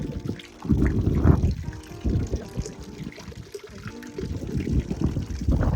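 Spring water trickles from a mountain source in the Carpathian village of Dzembronia, a close, steady splashing flow with rougher gusty bursts rising and falling through it.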